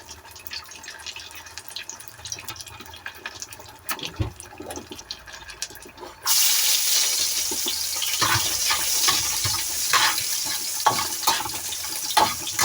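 Garlic frying in a pan for Filipino sinangag garlic fried rice, a steady loud close sizzle that suddenly swells after a few quieter seconds of scraping and clatter, then hisses on continuously.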